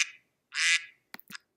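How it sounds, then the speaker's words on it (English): Duck quacking sound effect in iMovie: a short quack, a longer louder one, then two clipped rapid quacks, close and clear against silence. "a duck"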